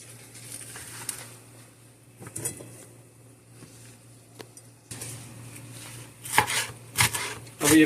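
A knife slices bell pepper on a cutting board, giving a few soft scattered taps early, then louder, quicker chops near the end, close up over a steady low hum.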